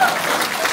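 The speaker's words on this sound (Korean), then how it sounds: "자, 큰 박수 부탁드립니다." Brief burst of crowd applause at a prize ceremony during a traditional yutnori board-game festival, a dense steady patter of many hands.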